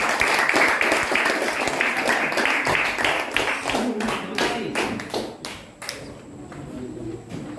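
A classroom group claps for a student team after a mathematics lesson, with dense scattered hand claps that thin into a few separate claps near the end.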